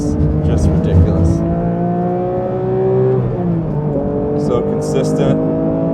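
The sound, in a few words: Porsche GT3 race car engine on track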